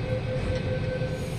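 A steady low rumble and rhythmic rattling of a metro train arriving on rails, with a faint high whine, continuous and moderately loud.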